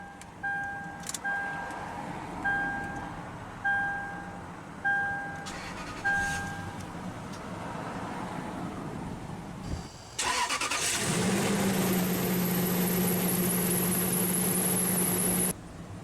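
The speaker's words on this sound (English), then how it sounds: "let's go ahead and start the engine" A 2006 Lexus GX 470 midsize body-on-frame SUV chimes repeatedly, goes quiet, then its engine cranks and fires into a steady, fairly loud idle that holds for several seconds.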